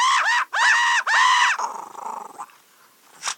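A dog snarls and barks in three loud, harsh bursts at another dog outside, then trails off into a lower, rough growl that fades out.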